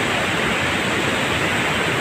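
Heavy floodwater rushing downstream toward Marikina, a steady, loud, broadband roar of churning water that holds constant throughout with no talk.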